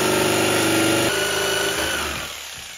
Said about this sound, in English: I think I might use a jigsaw for this